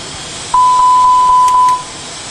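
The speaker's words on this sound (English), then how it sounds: "Again, we receive a lot of warnings." Airbus A320 cockpit warning beeps sounding after both engines are shut down in a ditching scenario: a steady, loud, single-pitched electronic tone held for over a second, with faint clicks around it and no talk.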